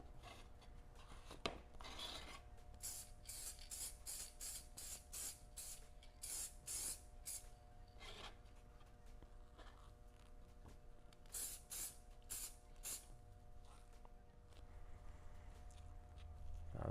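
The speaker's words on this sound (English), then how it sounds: "Spray it on both sides." Spray adhesive hissing in repeated short bursts onto both sides of a carbon fiber core for a DIY paddle board, close and fairly quiet, with brief pauses between passes and no talk.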